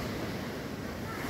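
Sea waves wash onto the shore after a typhoon, a dense and continuous rushing roar mixed with wind noise on the microphone, steady and fairly loud throughout.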